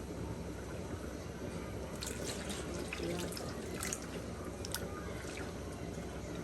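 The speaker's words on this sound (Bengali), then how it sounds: "আচ্ছা ঠান্ডা পানি দিয়ে দিই আস্তে আস্তে" Cold water trickles slowly into a haleem mix, a faint, continuous pouring and dripping sound over a steady background hiss, with a few brighter splashes near the middle.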